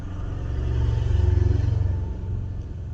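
A car engine rumbles low and steady as the vehicle backs up, swelling slightly in the middle with a faint pulsing throb before easing off.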